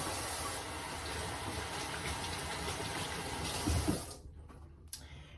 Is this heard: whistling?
no